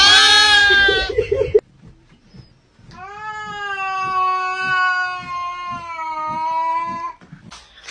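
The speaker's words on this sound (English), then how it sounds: "My two kitty cats." Cats meow loudly and close by: a short cry at the start, then after a pause one long, drawn-out wailing meow lasting several seconds, with a soft rhythmic thumping faintly beneath it.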